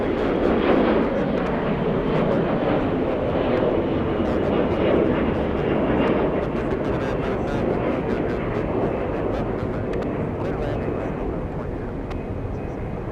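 Airbus A321 airliner taking off at Atlanta Hartsfield-Jackson airport, a steady broad engine roar that holds strong and slowly eases, heard from a distance with no clear voices.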